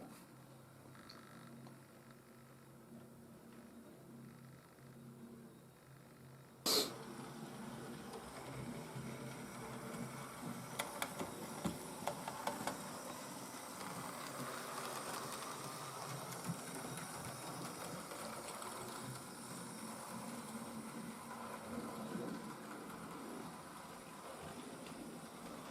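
A Hornby S15 class model locomotive runs on DC straight out of the box. A steady, faint whirring motor hum and rail rumble start after a sharp click, then hold for about twenty seconds with light ticking, and no one speaks.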